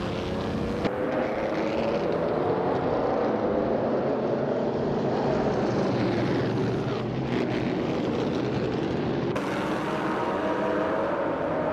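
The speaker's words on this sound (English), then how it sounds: "Unclearly Gaming is throttling a 1937 Alfa Romeo 12C" Engine of a 1937 Alfa Romeo 12C racing car in a video game race, a loud, sustained roar under throttle that keeps going for the whole stretch without letup.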